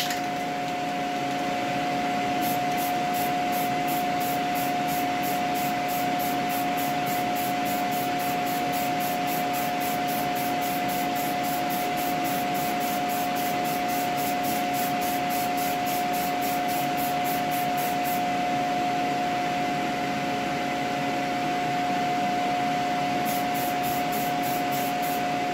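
Spray paint hissing onto a Guitar Hero guitar faceplate, a steady loud continuous spray lasting throughout with a faint rapid ticking pulse above it, no talking.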